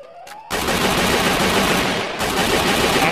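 Sustained automatic gunfire in the Free Fire Max battle royale game, a loud dense burst running nearly unbroken for about three seconds after a short quiet lead-in, with a brief dip partway through.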